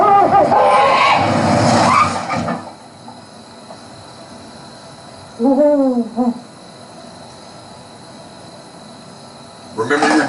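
An owl hoots a short wavering call once in the middle, clear and fairly close, with a voice talking before it and again at the very end.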